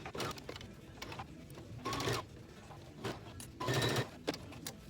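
Sewing machine running short bursts of stitching and back stitching across the corner of a pencil bag, the needle's rapid mechanical whir rising and stopping twice over faint background ticking, with no talking.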